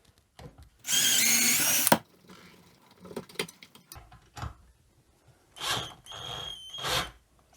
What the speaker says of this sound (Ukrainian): Тепер ми можемо відкрутити цей гвинт.